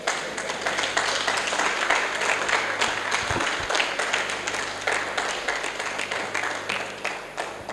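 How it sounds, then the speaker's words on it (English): A modest round of applause from the audience at a law and technology seminar in Nigeria, many hands clapping steadily at moderate loudness, with a faint low hum beneath. "give me a little round of applause"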